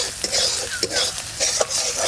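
Spices with salt, turmeric and cardamom sautéing in hot oil for a chicken curry, a steady sizzle broken by rhythmic stirring strokes every half second or so, close and fairly loud.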